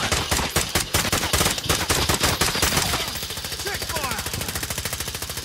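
Rapid automatic gunfire from Call of Duty Warzone, a dense, loud burst of shots for about three seconds that then gives way to lighter, quicker firing beneath a busy game soundscape.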